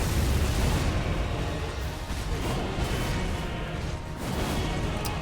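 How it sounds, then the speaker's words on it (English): A Starfall attack explosion in Elden Ring: Shadow of the Erdtree, a loud, sustained booming roar with crackling bursts that hold dense and heavy throughout, rising again near the end. "I sprint to the side and then block the explosion."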